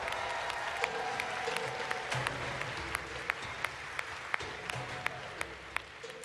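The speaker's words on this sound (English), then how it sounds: "Let's give another big round of applause to Modulus Props." A cosplay contest crowd at TwitchCon applauds the armor cosplayer Modulus Props, with steady, moderately distant clapping and a few sharper individual claps standing out near the end.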